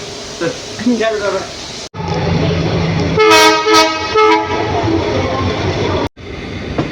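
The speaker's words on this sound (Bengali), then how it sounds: "এই ট্রেনটা ছাড়ছে" Train horn toots with rolling railcar noise as a passenger train pulls out of a station on a Kharagpur route, loud and close, with people talking aboard.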